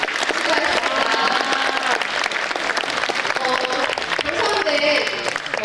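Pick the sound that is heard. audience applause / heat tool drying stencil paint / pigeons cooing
audience applause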